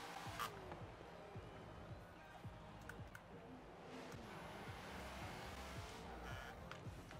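A car in the Forza Horizon 4 racing game launches from a standstill after holding revs near 2,000, its engine note climbing through repeated rising sweeps as it accelerates, steady and fairly quiet with no pauses.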